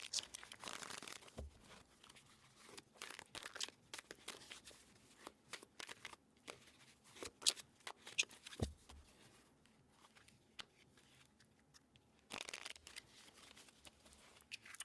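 A deck of tarot cards is shuffled by hand, the riffles and slides coming in repeated bursts of crisp papery rustle with short pauses, close and fairly quiet.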